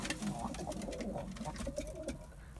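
Close, soft crested pigeon cooing repeats in low, rolling phrases over a muffled background.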